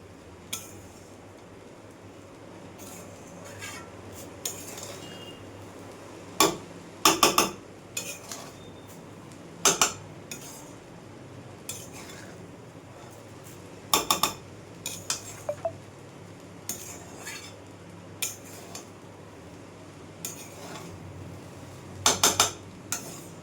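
A metal utensil scrapes and clinks against a pan while fried rice is stirred and mixed, with sporadic sharp clanks over a quiet background hum and no talking.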